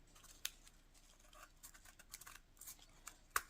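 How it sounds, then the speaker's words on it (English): Scissors cutting a fabric tag to shape for a junk journal, quiet crisp snips and soft scratchy rustling at close range, with two sharper clicks of the blades. "so I'm going to cut this to shape."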